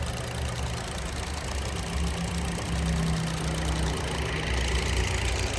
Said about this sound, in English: This is probably the naturally aspirated engine.